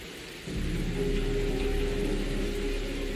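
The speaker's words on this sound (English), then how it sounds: "Something's wrong with this rain." Heavy rain and a deep thunder rumble swell in abruptly after half a second and hold steady in the video game Wuthering Waves, a dense continuous wash with no voices.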